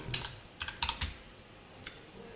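Computer keyboard typing code during a JavaScript and jQuery coding lesson: a few quick, light key clicks in short clusters, then a single later tap, close and clear over a quiet room.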